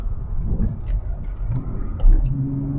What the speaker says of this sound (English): today I'm driving a Porsche Carrera S 997